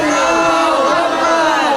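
A crowd at a melaad celebration in Gulab Pura, Gujranwala Cantt shouts a loud, dense, sustained response to a religious slogan, many voices merging into one continuous roar.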